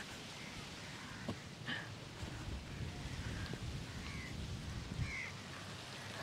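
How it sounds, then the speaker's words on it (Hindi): Steady rain falls outdoors in Zanzibar, a continuous broadband patter with low rumbling beneath and a few faint bird calls, with no talking. "it started to rain"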